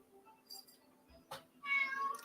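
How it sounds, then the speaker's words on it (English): A cat meows loudly indoors, several separate cries with short gaps between them, the last one long and drawn out, close to the listener against a quiet room. "can you not meow so loudly?"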